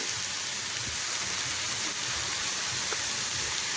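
Fish hitting a hot pan with winter vegetables already sautéed, giving a steady, dense hiss of sizzling that holds evenly throughout, close and moderately loud with no voices.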